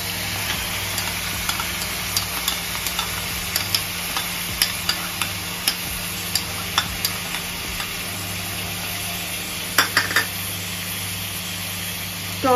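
Ginger garlic paste fries in a pan over low gas for mutton bhuna, a steady low sizzle with repeated light ticks and scrapes of stirring, close and even throughout with no talking.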